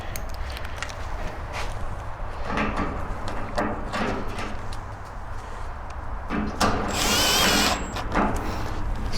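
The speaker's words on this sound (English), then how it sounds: "So now we can go ahead and reinstall the screws up in the front." A power drill drives screws back into the front of a giant 650,000 BTU Dayton torpedo heater during servicing, in several short whirring bursts close by over a steady background hum, ending in a longer, higher-pitched run.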